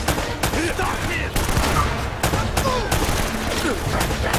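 Repeated gunfire from blind cover fire in Uncharted: Drake's Fortune, a run of sharp broadband shots spread across the clip, loud and close, with a voice talking over the shooting.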